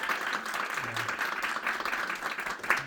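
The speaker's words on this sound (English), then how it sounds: "give them a round of applause" Applause from a seated audience at a networking book event, a steady wash of clapping held at moderate level for the whole stretch, with a faint cheer near the end and no speech.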